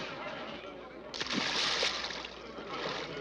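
Water is thrown onto a man in a 1950 railroad-era film scene: one sudden, loud splash about a second in, then a sustained gush and slosh over steady background noise.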